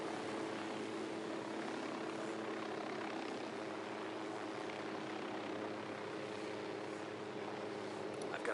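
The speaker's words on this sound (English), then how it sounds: "Drone is airborne." A surveillance drone in a video game flies steadily with a constant droning engine and rotor hum that holds at an even level throughout, a voice faintly present beneath it.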